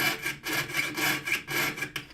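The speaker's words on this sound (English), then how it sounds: "we're going to approach it and start sawing" A hand saw cuts in steady back-and-forth strokes, about four rasping pushes with short pauses between them, close and moderately loud, with no talking.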